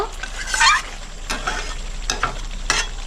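Chicken for Bengali chicken kosha stirred in a hot pan, with a loud sizzling fry and scraping stir strokes that recur every second or so, close up, with no talk.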